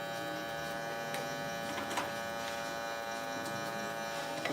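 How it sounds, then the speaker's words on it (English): Electric hair clippers buzzing steadily up close while fading the bottom of a haircut line at a barbershop, a continuous hum with a few faint clicks and no talking. "Just pushing down a little bit on the scalp."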